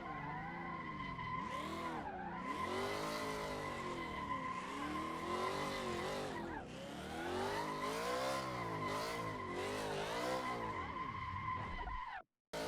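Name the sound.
car tires skidding while drifting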